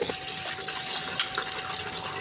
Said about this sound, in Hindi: चीनी घोलने के लिए इतना सा पानी काफ़ी है